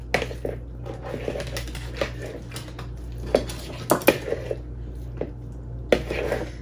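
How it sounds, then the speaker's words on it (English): A knife rough-chops tomatoes for guacamole, giving irregular soft close taps and squishy cuts against a board with a faint steady hum underneath. "And I'm just doing a rough chop on them."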